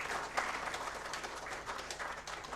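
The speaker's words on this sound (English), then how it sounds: "So let's give a big round of applause to them" Applause from an audience at a grand networking dinner, a steady wash of many hands clapping together at moderate distance, continuous and fairly even throughout without voices.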